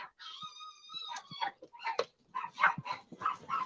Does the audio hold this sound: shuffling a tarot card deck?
no